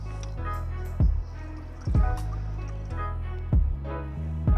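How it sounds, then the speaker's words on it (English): Bleach glugs into a washing-up bowl of warm water, heard as a few close, wet splashes and drips over a low steady hum. "then add a few glugs of bleach"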